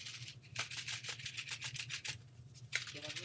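Quick repeated rubbing strokes as adhesive paper is pressed down onto a folded Valentine shaker card, a dry brushing friction close to the mic, about a dozen rapid passes in a steady rhythm.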